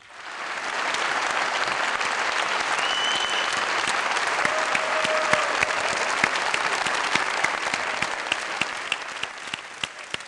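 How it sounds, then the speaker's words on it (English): An audience at a denim industry talk breaks into sustained, dense applause to welcome speakers, clapping steadily for about ten seconds with a few sharper individual claps near the end. "I know sometimes it's difficult to put your hands together and make a lot of noise"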